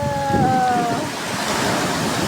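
Ocean surf rolls onto Dingalan Aurora beach as a broad, steady wash of waves mixed with wind rumble on the microphone, with a brief faint tonal whine early on and no talk.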